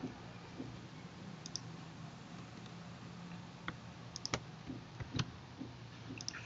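Keys on a computer keyboard pressed in a quiet room, a scattering of faint clicks that bunch toward the end, with no talking.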